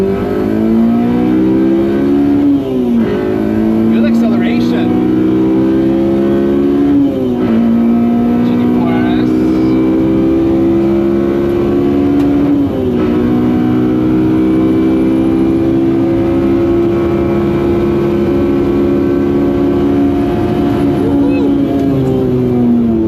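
Honda Civic EJ1 with a K20 engine on a lap of the Nürburgring, its four-cylinder revving hard and loud from inside the cabin through repeated gear changes, with the driver talking over it.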